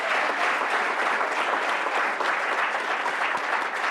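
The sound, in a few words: applause for children at a meeting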